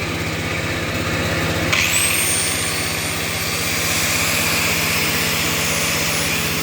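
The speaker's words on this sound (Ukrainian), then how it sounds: "включує болгарку 710 Вт" A 710 W angle grinder's high-pitched motor spins up abruptly and keeps whining steadily over a constant low hum, loud and close throughout.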